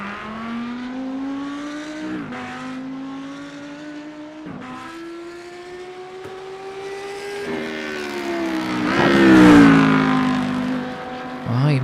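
Simulated BMW M4 GT3 race car engines in iRacing, loud droning exhausts rising and falling through gear changes, several cars overlapping, with a swelling surge near the end.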